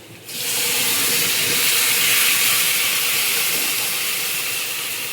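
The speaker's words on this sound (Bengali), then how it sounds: "এই যে টক দই দিয়ে দিলাম।" Sour yogurt hits fried onions in a hot pan, bursting into a loud, steady sizzle that starts abruptly and holds throughout.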